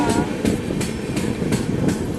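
An Indian passenger train hauled by a WDG 4D diesel locomotive rolls along with a steady rumble and a regular clickety-clack of wheels on rail joints, heard loud and close.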